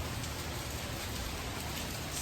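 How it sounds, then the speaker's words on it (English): Heavy rain pours steadily during a storm at a Punta Cana vacation spot, a dense, even hiss with no breaks and no voices. "It is storming."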